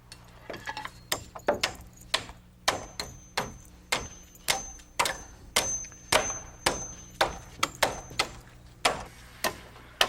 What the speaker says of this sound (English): lapping 2 or 3 rafter bays and nail them together